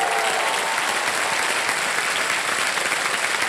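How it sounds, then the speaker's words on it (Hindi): A Kaun Banega Crorepati studio audience keeps up loud, continuous applause for a junior contestant's parents, a dense wash of clapping with no voices over it. "एक बार फिर तालियां बज जाए इनके लिए।"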